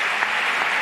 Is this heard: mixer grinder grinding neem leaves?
no